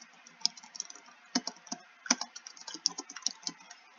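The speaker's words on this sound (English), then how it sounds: "First we're going to type staffers to students." Quick, uneven keystrokes tapped on a computer keyboard, close and fairly quiet, as a short phrase is typed with small pauses between bursts.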